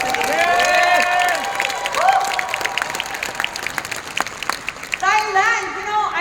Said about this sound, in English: a round of applause today.